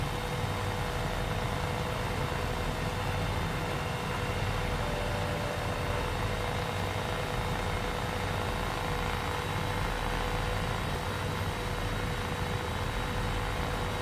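A Cowansim 500E helicopter in Microsoft Flight Simulator cruising over coastal Maine, its rotor and engine making a loud, steady, unbroken drone with a low rumbling throb that holds level throughout.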